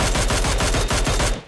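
Rapid automatic gunfire in the mobile battle-royale game PUBG Mobile, a loud, close burst of evenly spaced shots that lands a headshot and stops abruptly near the end.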